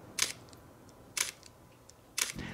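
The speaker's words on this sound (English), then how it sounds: "Listen to how smooth this shutter sounds." Three crisp shutter releases from a Panasonic S1 digital camera, evenly spaced about a second apart, each a quick, soft mechanical click in a quiet room.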